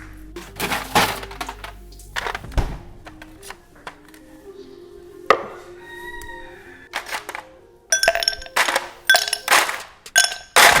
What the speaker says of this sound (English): let me get the ice